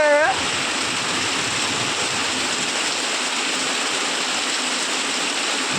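Flood water pours steadily into a shop as a loud, close, unbroken rush that keeps going at the same level throughout.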